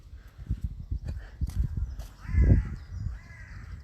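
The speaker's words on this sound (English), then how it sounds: "What I particularly like at this time in the morning is the bird song" Birds calling in a London park in the morning, with crows cawing loudly in repeated harsh calls over footsteps and outdoor rustling nearby.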